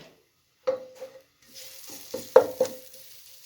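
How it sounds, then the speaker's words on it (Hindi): Ginger garlic paste drops into hot oil in a pan for fish head soup. Short bursts of sizzling spit and crackle come close by over a quiet background, with a faint stirring scrape. "जो अदरक लहसुन का पेस्ट लिया है वो ऐड कर देंगे, ठीक है, वो ऐड कर दिया"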